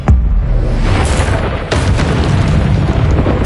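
Expelliarmus spell cast in Hogwarts Legacy, a loud booming magical blast with a sharp initial burst followed by a sustained rumbling, explosive roar and further pops, heard up close with no talk.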